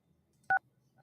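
A single short telephone keypad DTMF tone beeps once, clear and isolated against a near-silent phone line.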